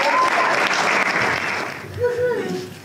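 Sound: applause for a boxer at a press launch

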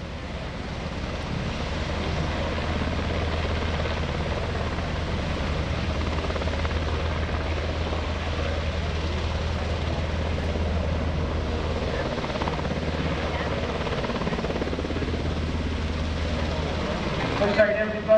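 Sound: UH-60 Blackhawk helicopter flying

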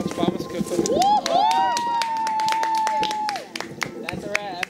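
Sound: people clapping on set

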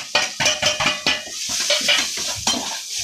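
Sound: stirring onions with salt and turmeric in pan

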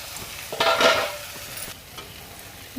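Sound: stirring banana flower ghonto with rice flour paste in pan

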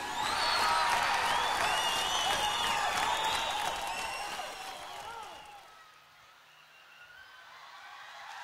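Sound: audience applause welcoming a singer on stage

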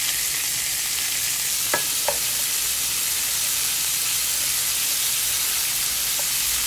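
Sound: sausage, peppers and onions stir frying in a pan

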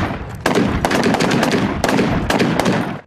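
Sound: MPT-76 rifle gunfire

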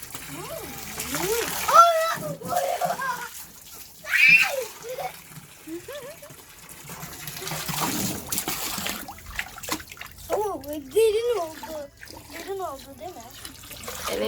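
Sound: water filling a pool, splashing

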